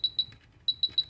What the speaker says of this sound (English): That's enough beeping.